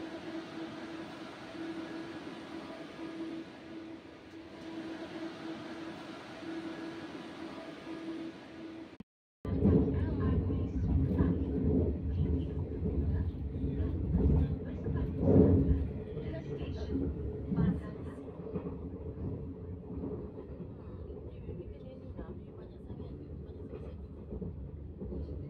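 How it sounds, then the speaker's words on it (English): A KLIA Transit airport train, one of the older units, rumbles steadily while waiting and then, after a brief drop-out, running louder with rattling and rail noise; people talk over the ride. "This is one of the older trains."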